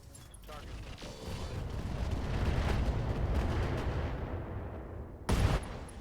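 Long-range missiles pound a mech in the Roguetech mod of Battletech, a rumbling wash of rolling explosions that swells and sustains, then one sharp, loud blast near the end.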